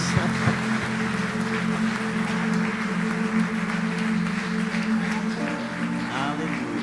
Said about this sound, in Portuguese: Vamos dar mais um aplauso ao Senhor